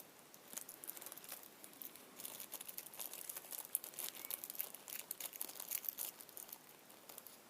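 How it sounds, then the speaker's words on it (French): Organza fabric being torn by hand to make a scrapbooking flower, a faint, steady crinkling and ripping texture of thin synthetic cloth that runs the whole time, close up and alone without talk. "Alors là, je déchire le truc."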